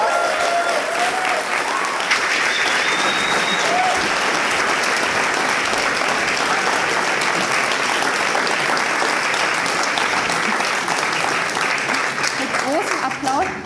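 An audience at a university philosophy slam applauds steadily and densely for the whole stretch, welcoming a performer onto the stage, with faint voices underneath.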